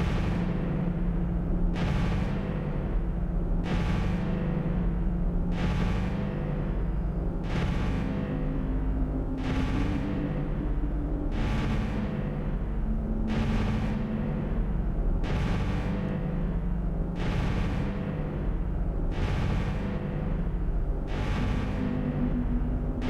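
Spaceship weapons in the space game Starmade fire in a regular series of about a dozen heavy booming blasts, evenly spaced, each with a sharp attack and a short decay over a low rumbling hum.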